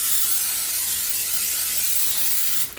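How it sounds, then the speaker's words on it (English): A continuous palm cooking oil spray hisses steadily at close range for a few seconds onto a heating pan, then cuts off with a brief clatter. "Now I'm gonna spray it with some palm spray."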